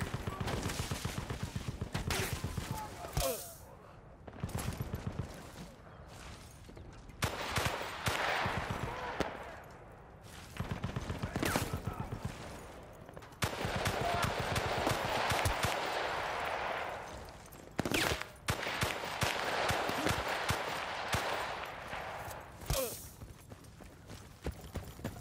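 Video game gunfire in bursts and rapid volleys, loud cracks and rattling shots scattered over half a minute, mixed with game noise and someone talking now and then.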